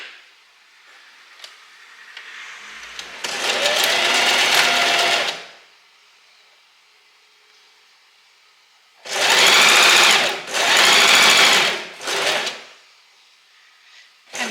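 A sewing machine stitches a seam on a white maxi dress, running in three close bursts: one long run of about two seconds, then two quick runs back to back and a short final spurt. Quiet pauses fall between the runs, with no talking.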